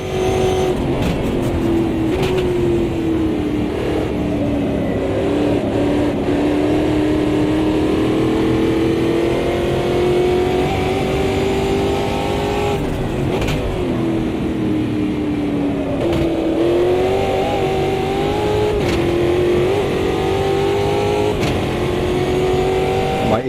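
Indy car engine in Automobilista 2, a continuous loud high-pitched drone that rises and falls gently as the car runs laps, with brief dips and upshifts around the circuit.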